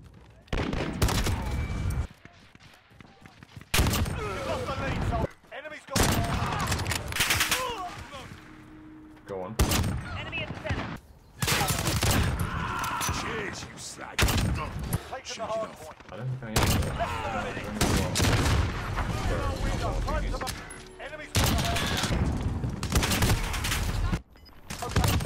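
Rytec rifle gunfire in a shooter video game: loud, heavy single shots in irregular bursts, broken by brief silences, with someone talking over much of it.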